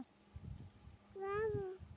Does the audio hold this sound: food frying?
no